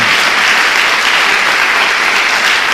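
A church congregation claps in praise, a dense, steady wash of loud applause filling the room without a break, with no voices standing out above it.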